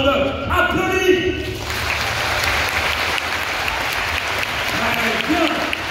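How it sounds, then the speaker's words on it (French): A crowd claps during a rehearsal before a Gaulish-versus-Roman costumed show. A voice speaks at the start, then broad steady applause takes over for several seconds before the voice returns near the end. "tout le monde applaudit"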